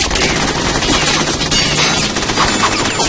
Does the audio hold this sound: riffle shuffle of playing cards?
no